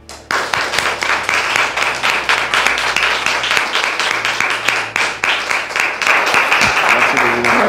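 Studio audience applauding on a French-language television set as a guest is welcomed, with dense, steady clapping that holds loud and even for several seconds.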